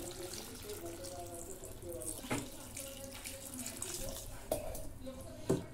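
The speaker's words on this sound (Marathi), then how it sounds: "आता याच्यात पाणी ओतून" Water pours into a pot of capsicum, carrot, green peas and beetroot, a soft, steady running trickle with a few clunks against the vessel, faint and close.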